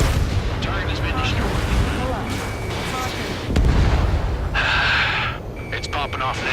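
Anti-aircraft guns fire and explosions burst during a battle in the Ace Combat 7 flight combat game. The loud, continuous roar of gunfire is punctuated by heavy booms about halfway through, followed by a bright crackling burst.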